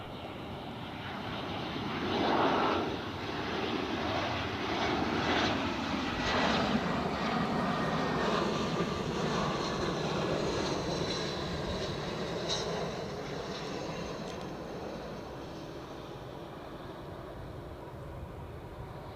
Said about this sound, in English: So here is our BA shuttle, second of the show actually.